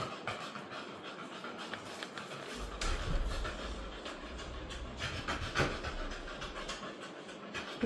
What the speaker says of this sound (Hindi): ये एस्ट्रो की आवाज है। डरता है